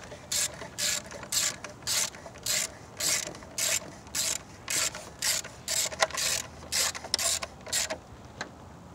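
Steady ratcheting clicks from a wrench tightening spark plugs on a Chevy Cobalt engine, about twenty quick bursts in a regular rhythm, close and fairly loud with no talking.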